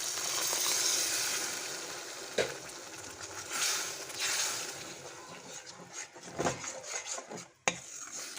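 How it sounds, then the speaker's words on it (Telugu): Tamarind juice is poured into simmering tomato dal, giving a broad watery hiss with soft pan clinks and stirring scrapes, a few sharp metallic knocks standing out near the end. "చింతపండు రసం వేస్తున్నాను."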